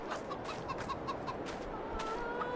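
Farm chickens cluck softly and intermittently amid a noisy outdoor background, short clucks scattered through the sound rather than one clear call.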